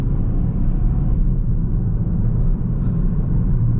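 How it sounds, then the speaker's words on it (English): A car engine drones loud and steady from inside the moving vehicle, held at high revs before gear changes from a reset gearbox, with a constant low rumble and road noise. "It's just that it changes the gear at a very high RPM."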